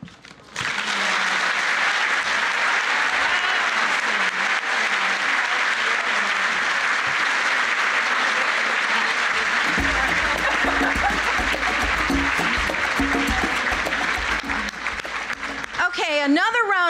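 Sustained audience applause fills a Washington Area Women's Foundation Visionary Awards ceremony, loud and steady for about fifteen seconds, swelling slightly near the end as a voice begins to speak.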